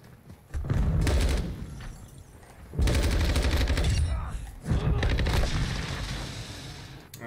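Loud, dense bursts of gunfire and explosions from Call of Duty 2 multiplayer, three long sustained volleys separated by short gaps, with a voice speaking partly underneath.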